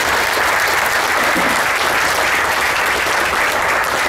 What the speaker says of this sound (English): the entire group, I think, gives a round of applause